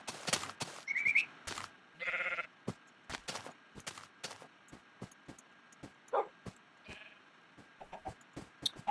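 Blocky sheep in a Minecraft game give short bleats amid clicks and other game sounds, with a few faint barks from a tamed dog and a brief chicken cluck. The bleats are fairly quiet and sparse, with no one talking.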